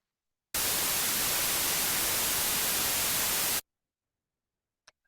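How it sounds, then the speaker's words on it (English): Loud, steady broadband white noise played as a demonstration, switching on abruptly and hissing evenly for about three seconds before cutting off, followed by a brief faint click. "So this is white noise."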